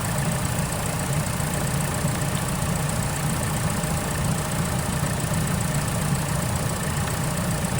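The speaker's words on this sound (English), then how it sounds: "So we've been idling a couple of minutes." A 2017 Vauxhall Mokka X sits idling with a leaking coolant bottle, a steady, even engine hum with constant broadband noise heard up close, unchanging and without any talking.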